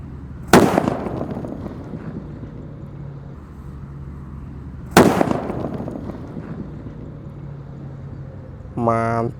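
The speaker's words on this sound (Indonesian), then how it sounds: "lanjut kita akan menyalakan mercon buntelan kertas yang ketiga ya" Two sharp, loud bangs of a paper-wrapped firecracker go off several seconds apart, each trailing into a brief echo over steady outdoor background noise.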